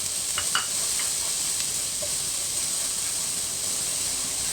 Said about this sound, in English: Now add finely chopped onions.